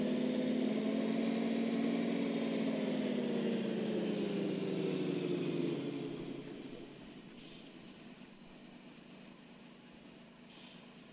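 A Fendt tractor engine in a video game drones at idle for several seconds, then winds down and fades, leaving quiet background with a couple of faint clicks.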